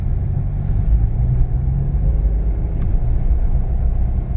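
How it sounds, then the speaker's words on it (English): A 2022 Mitsubishi Mirage with manual gearbox pulls away at full throttle in first gear on snow-covered ground on Hankook Ventus V2s tyres, a loud, continuous low engine roar and road rumble heard from inside the car. "We're gonna go ahead and drop the clutch and floor it."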